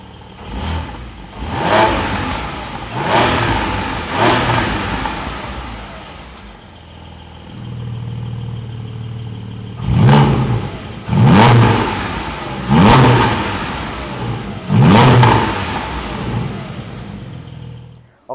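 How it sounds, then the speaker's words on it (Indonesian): A 2022 Porsche Cayman GT4's flat-six boxer engine blips through its twin exhaust in a series of sharp, loud revs, first a quick cluster, then a pause at idle, then four more spaced bursts. "Knalpotnya suaranya juga merdu sekali GT4 ini ya."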